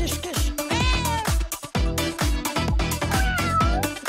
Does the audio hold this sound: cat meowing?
yes